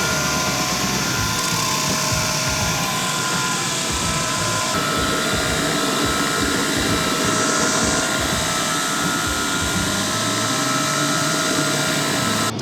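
Harsh, continuous grinding roars at high volume, a power tool grinding a forged sword blade to shape steadily with a bright hiss and shifting pitch.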